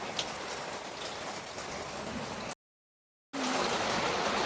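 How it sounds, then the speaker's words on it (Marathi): Heavy, continuous rain pours outside a house in a steady, dense hiss, loud and close, broken by a brief total silence before resuming just as strongly. "पाऊस कंटिन्यू पाऊस असल्यामुळे बाहेर कामं करायला मला जमत नाही"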